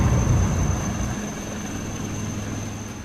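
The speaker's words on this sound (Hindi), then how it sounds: "इसके बाद हेलीकॉप्टर जिन लोगों को पहले बैठा चुका है उन्हें लेकर उड़ जाता है।" An army rescue helicopter flies away from a flooded area, its rotor thump and engine roar strong at first and then easing slightly as it moves off, steady and alone.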